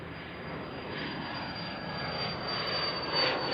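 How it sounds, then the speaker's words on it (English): An Embraer Phenom business jet taking off at Tucson International Airport, a steady broadband roar with a faint high whine that holds at a constant moderate distance and swells slightly toward the end, with no talk. "we check out this Embraer Phenom taking off, going sky high"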